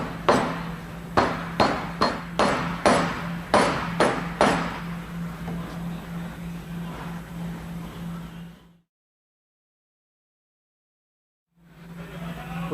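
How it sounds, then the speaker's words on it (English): A soft face hammer taps a part into place around hoses while repairing a hydraulic concrete paving vibrator, about a dozen sharp, evenly spaced strikes over a steady motor hum, followed by a pause in all sound. "using the soft face hammer and tap it in"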